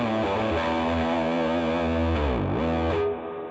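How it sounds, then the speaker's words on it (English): Electric guitar lick played through a majestic drive effect patch in Rocksmith, loud saturated sustained notes with a bending pitch dip near the end before the tone fades slightly. "Okay, so kind of a cool little majestic drive sound."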